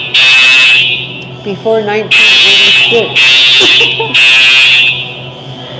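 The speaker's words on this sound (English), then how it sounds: "Oh, the fire alarm." Fire alarm going off inside a building, a loud harsh electronic buzz sounding in repeated long blasts with short gaps, while a person speaks between and under the blasts.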